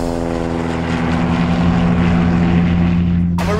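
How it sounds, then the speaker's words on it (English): A propeller airplane taking off drones loudly and steadily with a strong engine hum throughout, cutting off abruptly near the end. "My partner just took off in the plane."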